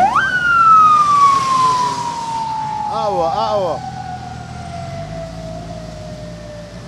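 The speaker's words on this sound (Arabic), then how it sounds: "هي إسعاف هي." An ambulance siren wails loud and close as its rising and falling tone sweeps steadily across several seconds, with people talking over it in Arabic during a Ramadan street game show.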